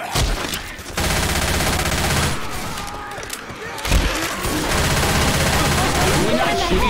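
Heavy gunfire in a four-player co-op round of Left 4 Dead 2, with overlapping bursts and rapid volleys broken by a couple of brief lulls and a thump, while players talk over it.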